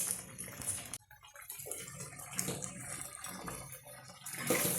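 Water pours into a pan of green gram masala curry, a gurgling, splashing stream that starts after a brief pause and runs unevenly, fairly close and alone.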